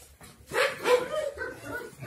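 A young Rottweiler-type puppy, about five months old, gives a couple of short yelping barks and whimpers close by, with quieter whining continuing afterward.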